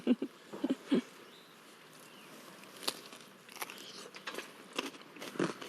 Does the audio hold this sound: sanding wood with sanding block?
no